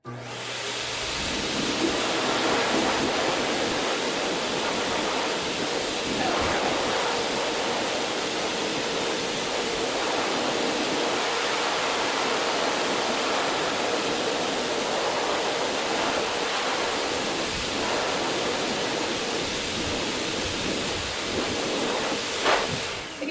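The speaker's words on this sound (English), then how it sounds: "blow out that coat that is trapped inside his fur" A pet dryer blasts a steady, loud rush of air through a dog's coat, unheated since the dog is dry, holding a constant broadband roar almost the whole time after a short quieter start.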